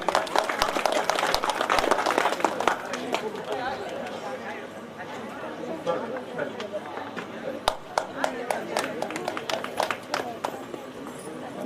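At an outdoor Yakshagana stage event in Sringeri, an audience claps to welcome a guest onto the stage. The applause is dense and scattered, strongest early, then thins into irregular claps under crowd chatter.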